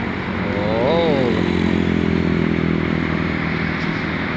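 Motorcycles ride along a road in Mindanao, their engines a loud, continuous close drone that swells slightly and then holds steady, with a faint voice briefly underneath.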